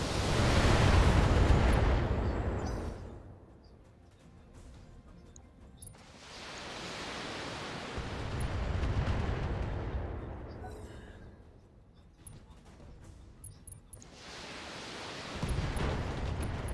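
Mech weapons firing in the BattleTech video game, a target Thunderbolt mech under attack: three heavy booming volleys roll out in waves, each burst loud and rumbling, then decaying, spaced several seconds apart.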